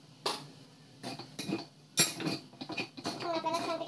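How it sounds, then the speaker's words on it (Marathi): Bhakri chivda tossed with a spoonful of sugar in a pan, giving a few sharp scraping clinks of a spoon against metal amid softer rustling stirs, close and moderately loud, with no talking. "आपल्याला छानपैकी असं परतून घ्यायचं."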